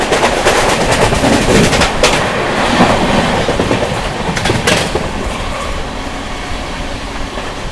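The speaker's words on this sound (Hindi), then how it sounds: "आप लोगों को स्किप दिखाते हैं उत्तर प्रदेश का दिलदार नगर जंक्शन" Sampoorna Kranti Express running through Dildarnagar Junction in Uttar Pradesh, a loud rushing roar of passing coaches with rhythmic clickety-clack of wheels over rail joints, easing slightly toward the end.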